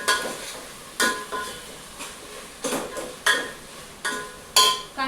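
Onion and tomato with ginger-garlic paste and whole spices sautéing in a pan, a spoon scraping and stirring in repeated strokes over a soft sizzle, close and fairly loud.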